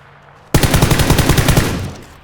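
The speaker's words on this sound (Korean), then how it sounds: "일단은 총소리를 냈기 때문에 저놈이 이제 내 위치를 파악했을 거야" Automatic gunfire in the battle royale game PUBG: a loud, sudden burst of rapid shots starting about half a second in and running without pause for nearly two seconds, close and dominant with no speech.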